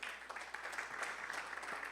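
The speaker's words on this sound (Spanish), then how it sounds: "Dele una ofrenda de palmas al Señor" A church congregation clapping together as an offering of praise: dense, continuous applause that sounds fairly distant and faint, with no talking over it.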